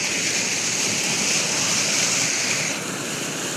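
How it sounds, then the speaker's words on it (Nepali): A mountain stream beside a steep trail gives off a loud, steady rushing roar that stays close and unbroken throughout, with no voices. "अब यहाँ यत्रो खोला छ"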